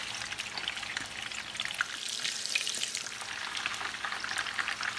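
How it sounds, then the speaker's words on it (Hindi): Ingredients for savoury rice frying in a pan, a soft, steady sizzle with fine crackling and light stirring, fairly quiet and close, with no voices. "बस 1 मिनट फ्राई करना है।"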